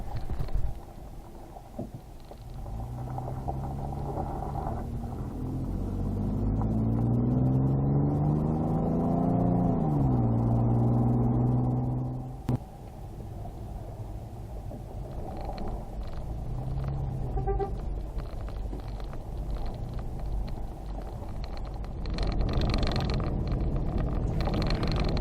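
A car climbing the road up Brian Head Peak in Utah, a steady close engine rumble with gear-like rising and falling tones, mixed with wind and road noise, no voices.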